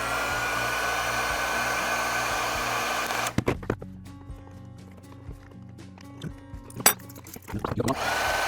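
A heat gun heating a DJI Agras T50/T40 remote controller's right thumbstick module blows with a steady airy whoosh, then switches off, leaving scattered clicks, taps and handling noises nearby.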